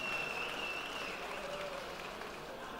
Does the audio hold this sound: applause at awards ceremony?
yes